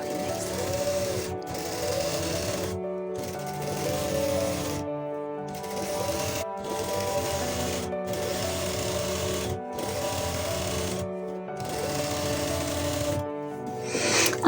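An electric sewing machine stitches trouser fabric in repeated bursts of steady buzzing whir, each run broken by brief pauses, close and continuous with no talk.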